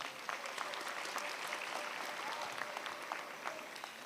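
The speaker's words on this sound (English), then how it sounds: "I think that deserves a round of applause." Graduation ceremony audience in a large hall breaks into applause for the graduating students, an even, continuous wash of many hands clapping, steady and fairly distant, with faint voices underneath.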